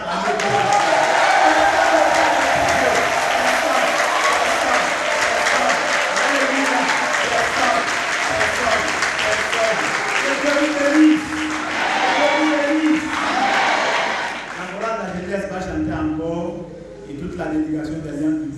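Church congregation applauding and cheering loudly and continuously at a worship service, a dense sustained wave of clapping that fades near the end as a voice speaks over it.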